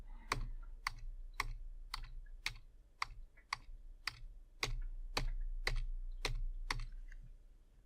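Someone presses keys repeatedly on a computer keyboard while working in the vi editor, about thirteen crisp, evenly spaced clicks over a low steady hum.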